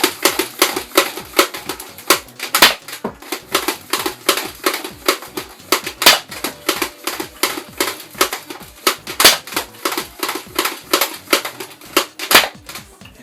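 A modded Buzz Bee Air Max 6 toy blaster fires foam darts in a long run of sharp, loud snapping shots, roughly two per second and close up, with no talk over them.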